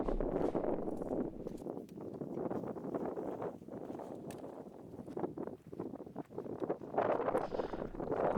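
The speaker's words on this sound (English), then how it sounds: "the wind was picking up just a little bit" Wind gusts on a frosty summit in the Scottish hills of Stuchd an Lochain, a faint, uneven rushing and buffeting against the microphone that rises and falls with no speech.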